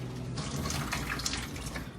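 Cool water runs from a tap into a pot of boiled gnocchi, a steady splashing pour heard close and alone for about two seconds.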